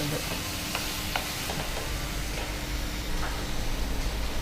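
Tomato bath frying in a pan with steady sizzling and stirring, continuous and close with occasional scrapes of the spoon against the pan.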